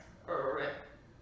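A person's voice makes a short, low, throaty croak imitating a bullfrog, a single call lasting under a second.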